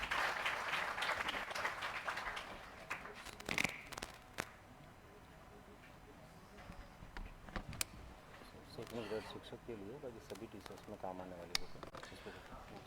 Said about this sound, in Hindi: तो तरुण सर के लिए भी जोरदार तालियां